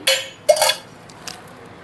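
A cooking pot clinks down onto a gas stove as cooking begins, two sharp metallic knocks in quick succession with a faint third tap, close and fairly loud with no talk.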